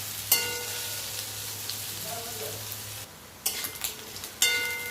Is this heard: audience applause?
no